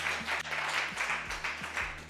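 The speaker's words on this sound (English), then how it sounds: "Round of applause." An indoor audience at a women's health fitness event breaks into a round of applause, steady dense clapping with scattered cheers lasting a couple of seconds, with faint voices mixed in.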